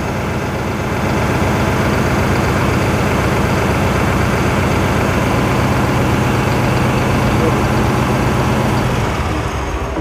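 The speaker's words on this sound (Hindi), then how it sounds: "अब आवाज़ सुनवाता हूँ मैं आपको इसकी," A New Holland 5620 CRDi tractor engine idles steadily and loudly at close range, a constant low rumble with no speech.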